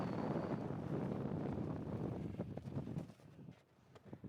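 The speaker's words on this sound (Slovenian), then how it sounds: "No, od kje se je pa ta veter vzel?" Gusty wind rushes across a microphone in a snowy mountain gully, a steady loud roar for a couple of seconds that breaks into sharper buffets before easing off, with no voices.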